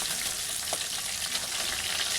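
Fish sizzles in hot oil in a wok, a continuous crackling fry with bright spitting bursts, close and steady, with no talking over it.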